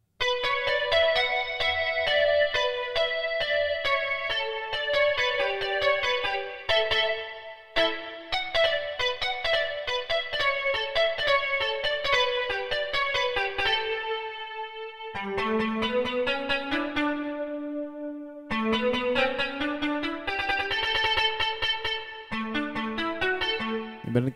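Sampled bachata guitar from a Kontakt library, played with reverb: plucked melodic runs and chords, close and steady, with brief pauses between phrases and no voices.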